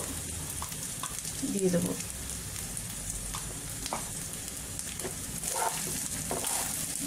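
Egg fried rice with mixed vegetables being stir-fried in a pan, a steady close sizzle with scraping and clinks of a spatula stirring, while a voice speaks briefly over the cooking.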